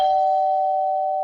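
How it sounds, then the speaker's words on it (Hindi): A doorbell rings in a hotel room at night, a single sustained electronic chime tone that rings out clearly and steadily on its own, with no voices over it. "अचानक डोरबेल की आवाज"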